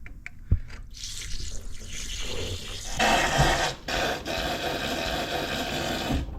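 Fluid drains from an engine with its top end removed, trickling and splashing faintly close by, with a sharp knock near the start.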